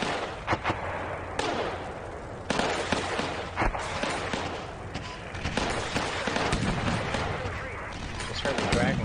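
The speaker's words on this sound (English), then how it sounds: "Still firing an RPG." Rocket-propelled grenade launches and explosions in the tank combat simulator Steel Beasts Pro PE, a 1975 mechanized company battle, with repeated sharp blasts and crackling gunfire over a constant rumbling battlefield bed, while someone talks at times.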